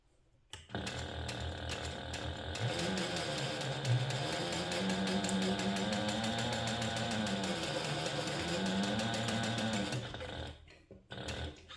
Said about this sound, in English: we're going to sew this together with a 1/2 inch seam allowance again